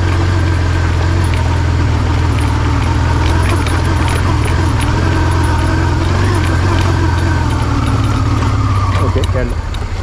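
A car engine works steadily under load while pulling away up a hill in Iceland, a loud continuous low drone with a rising whine toward the end.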